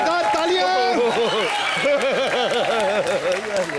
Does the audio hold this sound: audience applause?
yes